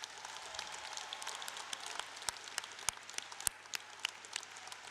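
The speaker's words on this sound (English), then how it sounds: "Another round of applause, please." A large audience applauds at a university commencement ceremony: a steady, distant wash of many hands with a few sharper individual claps standing out, faint and even throughout, with no voices.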